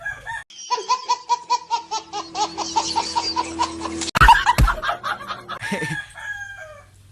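A rooster crows loudly up close, a long rhythmic cock-a-doodle-doo with clucking mixed in, ending in a harsher burst and trailing off.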